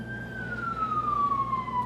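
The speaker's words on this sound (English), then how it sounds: "sirens in the background" An emergency siren wails in the background, a single long tone gliding slowly downward over a low steady hum of traffic, moderately loud and without speech.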